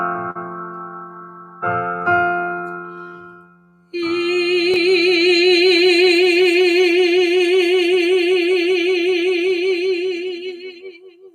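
A voice sings a sustained F, swelling louder then fading, a clear held tone with vibrato after a few short piano-like notes at the start; close and alone, no talking.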